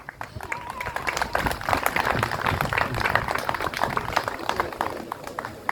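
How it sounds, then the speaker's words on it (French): An indoor crowd applauds at the awards ceremony of a French koi show as a supreme champion trophy is presented. The dense clapping is steady and sustained, with voices murmuring underneath. "Voilà, applaudissez-le."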